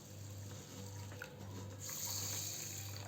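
Water running from a tap onto rice and split urad dal set to soak in a kitchen, a steady close splashing stream that grows slightly brighter toward the end.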